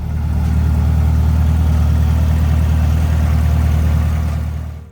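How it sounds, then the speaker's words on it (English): A 2018 Chevrolet Camaro ZL1 engine running at a steady idle, a loud, deep, continuous rumble heard up close with no talking, cutting off at the very end. "I'll just show you a peek here at the engine while it's running"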